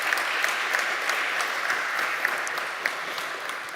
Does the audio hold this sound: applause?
yes